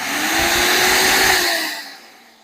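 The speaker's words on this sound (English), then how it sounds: "So that end will just plug right into a shop vac." A shop vacuum used as a dust collector roars with a loud, steady whine close up, then its pitch falls as it powers down and fades out.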